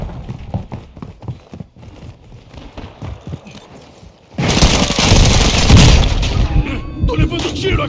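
Loud, dense bursts of Call of Duty: Warzone 2.0 gunfire erupt midway and rage continuously, preceded by quieter clattering and scattered thumps.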